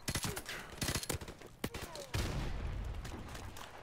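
M16 rifle bursts in Call of Duty 4 Modern Warfare Remastered, a rapid cluster of close, sharp shots in the first half followed by a louder blast and a trailing rumble of distant fire.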